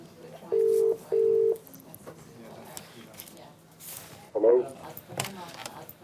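Two tones of telephone dialing at a hospital, followed by faint clicks and handling noise as the call connects. The line stays quiet and there is no clear ringing.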